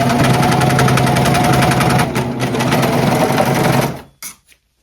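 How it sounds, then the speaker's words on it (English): A serger whirs at a steady fast rhythm as it stitches around the raw edges of a thrifted quilt fabric, close and continuous, then slows and stops with a few small clicks at the end. "I'm gonna be using my serger to go around these edges here."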